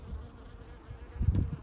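Honeybees buzz at a crowded hive, a steady low drone with a louder swell of nearby buzzing near the end and no voices.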